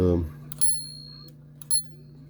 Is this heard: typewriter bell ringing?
yes